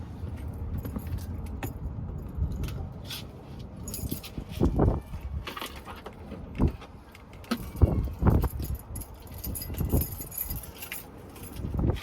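Keys jangling in a car, sharp metallic jingles in scattered bursts, some clustered close together, over a low, quiet vehicle background with faint thumps and no speech.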